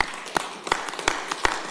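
Scattered applause for a veteran at a city council meeting, a small room's worth of individual claps sounding sparse and uneven over a short burst.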